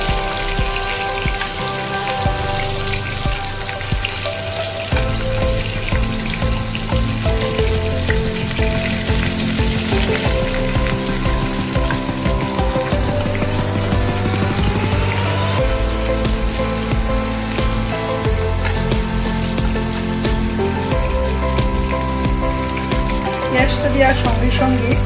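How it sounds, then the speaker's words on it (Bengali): Chopped onion, green chilli and potato fry together in oil for Bengali aloo posto, a dense continuous crackling sizzle like rain that runs steadily and close throughout, with faint tonal sounds in the background. "পেঁয়াজটা দেওয়ার সঙ্গে সঙ্গে কাঁচা লঙ্কাটাও আমি দিয়ে দিই, আলুটাও এর সাথে দিয়ে দেবো"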